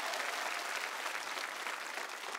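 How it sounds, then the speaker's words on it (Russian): A TV studio audience claps steadily through the whole moment, a dense, continuous wash of applause from many hands, with no voices rising above it. "Курчич, наши аплодисменты."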